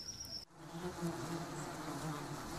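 Bees buzzing in a continuous droning hum, close and steady throughout, alone with no voices.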